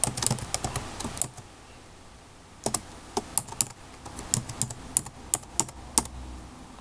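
Computer keyboard typing at an office desk, keys clicking in irregular bursts with a short pause midway, fairly close and alone with no talking.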